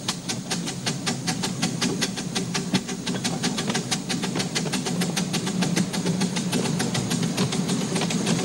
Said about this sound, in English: our train crosses another bridge